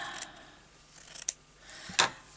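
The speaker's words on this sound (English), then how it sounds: "Cut this off here" Scissors snip fabric for a slow stitch journal cover, a few quick, close, crisp cuts separated by short pauses in a quiet room.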